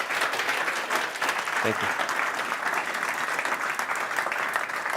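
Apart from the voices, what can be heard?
audience applause at a conference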